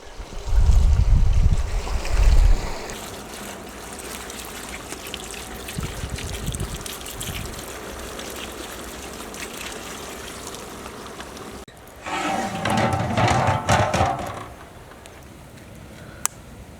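Water splashes and trickles into a pot of mutton curry. A loud pour at the start is followed by steady bubbling and simmering, then a second pouring burst near the end, with no speech.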